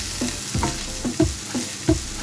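Garlic, Scotch bonnet and red onion sizzle in a frying pan while a utensil stirs them in a steady rhythm of about five scraping strokes over a constant hiss, close and clear.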